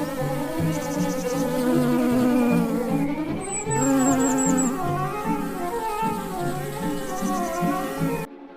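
Desert bees buzz steadily and loudly nearby, a dense layered hum of wingbeats with wavering pitch that stays continuous before cutting off abruptly at the end, with no talk.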